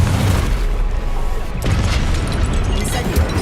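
In Hogwarts Legacy, a Confringo spell explodes with a heavy booming blast, followed by a rumbling roar and more bursts, loud and close throughout, with no voice heard.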